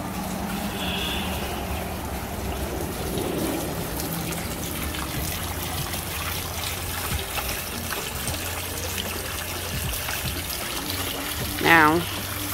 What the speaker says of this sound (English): There are different ponds and fountains everywhere.